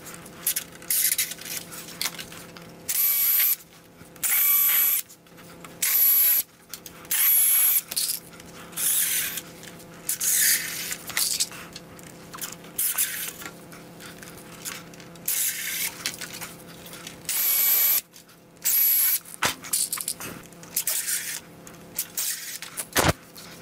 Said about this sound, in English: attach the ends of the X's with a snappy bit specifically designed for these Torx head trim screws